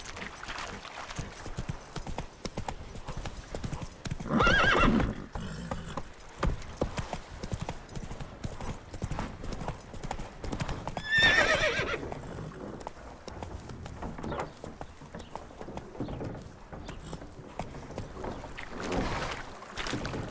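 Roach, a horse in The Witcher 3, gallops with a steady clip-clop of hooves, the pace surging in a few louder bursts, with water splashing or wind-like rushes mixed in and no talking.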